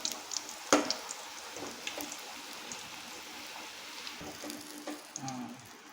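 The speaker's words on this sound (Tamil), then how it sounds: "இப்போ நம்ம போட்டு பொரிச்சு எடுத்துடலாம் பூரியை." Chola poori made with curd-kneaded dough frying in hot oil, a faint, scattered crackle and sizzle with a few sharper pops near the start, quiet and without talk.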